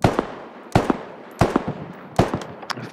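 A small, underpowered gun in a video game fires in sharp, evenly spaced pops, each shot followed by quick echoes, repeating four times with no talking.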